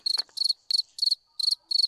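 Crickets chirping in short, rapid pulsed trills, about six bursts in under two seconds, clear and close with nothing else in the background.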